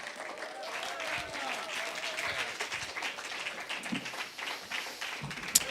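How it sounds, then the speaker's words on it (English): Audience applause at a Bushwick Book Club Seattle mainstage show, a steady moderate patter of many hands clapping in a room, with a brief voice over it at the start. "Keep that applause going for everybody we heard from tonight."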